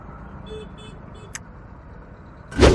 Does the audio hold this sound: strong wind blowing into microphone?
no